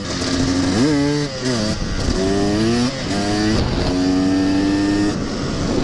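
A KTM 250 two-stroke dirt bike revs hard during a wheelie attempt, its engine rising and falling in several sharp surges and sustained high-pitched pulls, loud and close.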